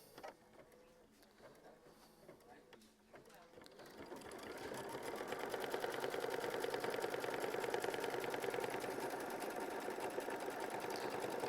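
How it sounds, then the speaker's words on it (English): A sewing machine stitches a quilt block, starting after a few seconds of quiet handling and light speech, then running in a loud, continuous rapid whir with a fine buzzing rhythm to the end. "And we're going to let it stitch."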